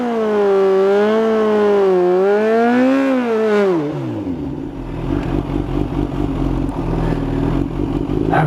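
Kawasaki ZH2 motorcycle at the drag strip, its engine held at a wavering high rev, then dropping into a deep, loud rumble as the bike launches hard down the strip.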